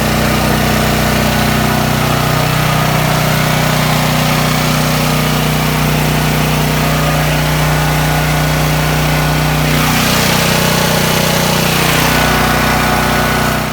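A Champion 10,000-watt dual-fuel gasoline/propane generator runs with a loud, steady mechanical hum, its pitch and tone shifting a few times as the engine load changes.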